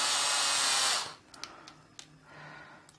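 An electric screwdriver driving screws into a Raging Droner build whirs loudly for about a second, then stops, followed by a few light clicks and taps.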